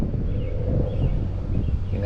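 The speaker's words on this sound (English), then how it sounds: "with this wind blowing me around" Wind blowing across a lake during a bass fishing trip, a steady low rumbling buffet against the microphone that runs unbroken throughout, with no voices.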